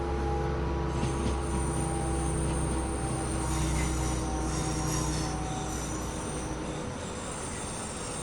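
Steady rumbling train noise with a high metallic squeal running through it as the train brakes, a continuous mechanical drone that eases slightly toward the end. Train Sim World 5 video game, West Coast Main Line South.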